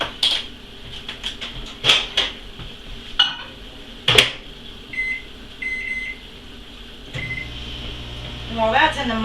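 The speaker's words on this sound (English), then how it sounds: "Put it in the microwave for a minute." A microwave oven heats cake batter in a cup, its low hum running under a series of sharp clinks, clatters and beeps, with a person talking in between.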